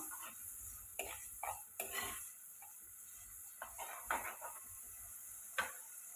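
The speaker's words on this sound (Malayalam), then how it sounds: "നന്നായി ഒന്ന് ഇളക്കി കൊടുക്കാം." Fish curry with tomato being stirred in a pan on the stove, a spoon scraping and knocking against the metal in several short bursts over a steady bubbling simmer.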